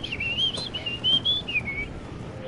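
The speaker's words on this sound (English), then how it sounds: "You gotta start whistling in the mic." Someone whistles into a microphone during a Fortnite game, a wavering high tune of several short phrases over quiet background hum, fairly faint and alone.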